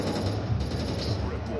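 Rapid gunfire in the multiplayer shooter game MaskGun, a dense continuous burst of shots lasting under two seconds with no pauses, loud and close.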